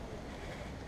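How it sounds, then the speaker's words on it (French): Wind blows steadily outdoors near the sea, a continuous broadband rush with gusty rumble and microphone buffeting, fairly soft and with no voices. "c'est à cause du vent qui me vient dans les yeux"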